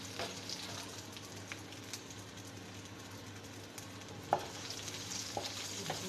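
Chillies and spices sizzle quietly in oil tempering for a dhaba-style urad mash daal, a faint steady hiss broken by a few sharp pops and a spoon tap.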